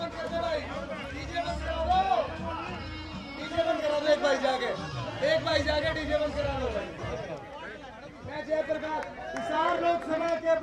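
Huge crowd at an election rally in Hisar, a dense babble of many voices and shouting that rises and falls continuously around a politician's convoy.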